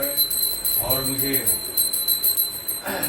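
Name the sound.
ritual hand bell ringing during Hindu puja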